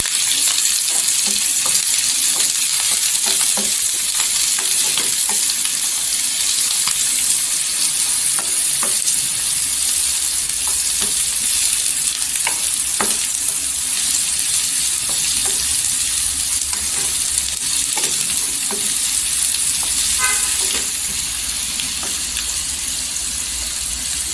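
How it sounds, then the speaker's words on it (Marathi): Chopped onion and curry leaves sauté in hot oil for a dried-fish curry, giving a steady loud sizzle with occasional scrapes and clicks of a stirring spoon. "इथे कढीपत्ता टाकायचा तेलावर परतून घ्यायचं"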